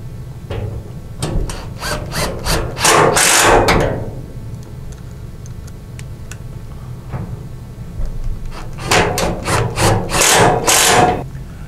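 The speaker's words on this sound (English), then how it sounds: "And we'll go ahead and screw these together." Roof panels of an ArmorTech top for a CFMOTO U-Force Crew 1000 UTV are screwed together, with two bursts of rapid, rattling fastening noise, one early and one later, separated by a quieter stretch.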